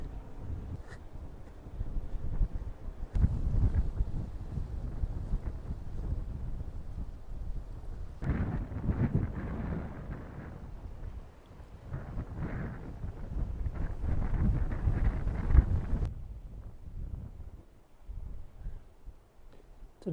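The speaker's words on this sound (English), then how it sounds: "it's going to get very windy" Gusty wind on a coastal path on the Isle of Wight buffets the microphone in rising and falling rumbling bursts, loud at times and easing in between, with no talking.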